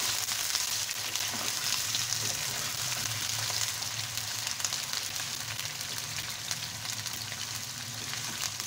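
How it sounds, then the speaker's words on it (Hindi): Chicken pieces frying in hot oil in a karahi, a steady, dense sizzle and crackle that holds evenly throughout at close range with no talking. "अब हम इसमें डालेंगे चिकन। और इसको करेंगे फ्राई।"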